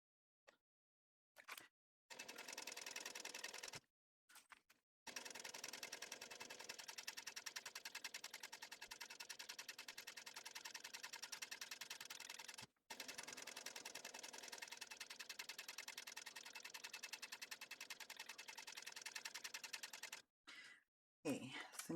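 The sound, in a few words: sewing machine top stitching a zipper gusset on a laptop bag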